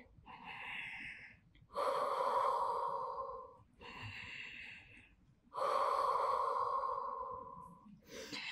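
Slow, deep breaths taken while resting in child's pose during a back-strengthening Pilates routine: a few long audible inhales and exhales, close and clear, with pauses between and no talking.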